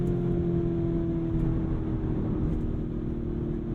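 A 2021 Lamborghini Urus engine holds a steady low rumbling drone from inside the cabin, fairly loud and even, with no distinct rev spikes or pops.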